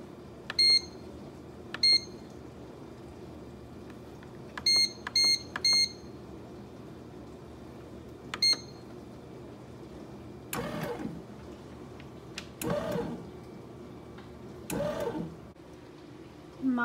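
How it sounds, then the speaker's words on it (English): An old bread maker starting a loaf gives several clusters of short, high electronic beeps, single and in quick runs, followed by a few longer whirring and rumbling bursts nearby in a quiet room. "got my trusty old bread maker here. I'm gonna get a loaf going."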